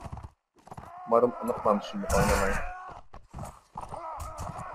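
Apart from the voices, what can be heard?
horse galloping in Mount & Blade Warband video game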